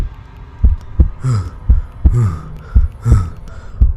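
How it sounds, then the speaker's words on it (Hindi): Deep heartbeat thumps in a slow, steady double-beat rhythm, each pulse low and booming with a faint ringing tone between beats. "उनका दिल जोर जोर से धड़कने लगा"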